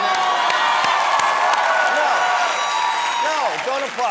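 A talk-show studio audience applauds and cheers loudly and steadily, a dense wash of clapping with whoops and a voice cutting through near the end.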